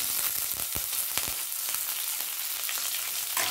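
Green chilies and curry leaves hit hot oil already holding cumin and mustard seeds, giving a steady, close crackling sizzle with sharp pops scattered throughout and no talking.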